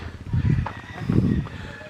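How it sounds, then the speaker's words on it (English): Chickens at a mountain chicken ranch in Bamban, Philippines, giving two short bursts of clucking and crowing close by, with speech present. "Chicken coop over there."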